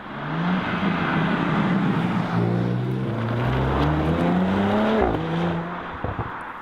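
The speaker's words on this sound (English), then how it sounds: "with the Audi this is the optional sports exhaust" Audi S or RS car with the optional sports exhaust, dual black tailpipes with split inner pipes and an exhaust valve, roaring steadily and loud, with rising and falling engine tones as it revs through gears and briefly cuts near the end.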